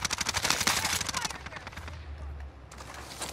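Rapid bursts of video game gunfire fill the first second and a half, a dense stuttering rattle of automatic fire, then fade into a low rumble with a few scattered later shots.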